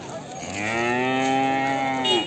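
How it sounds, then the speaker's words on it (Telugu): A Jaffarabadi buffalo at the Erragadda Sunday cattle market gives one long, loud, close moo that rises and sustains for a couple of seconds with a rough tonal quality. "ఇది జాఫరాబాది."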